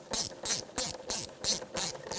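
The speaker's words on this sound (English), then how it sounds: "Now we can tighten up the two band clamps." Rapid ratcheting clicks from a 5.5 mm socket tightening two band clamps on the air intake boot of a 2003-2007 Honda Accord 2.4L, about seven close, even bursts with brief gaps, alone without talk.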